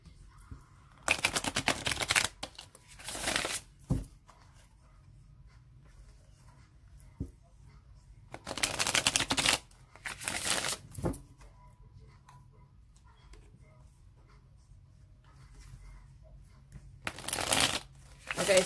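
Several bursts of slippery tarot cards being shuffled, each a quick riffling flurry with quiet pauses between, close and fairly loud.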